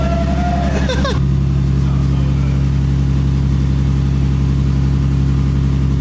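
A rebuilt forged turbo M50 engine in a BMW E30 runs at a steady, loud, rumbling idle, with a brief voice and rising whine at the start before the engine drones on alone.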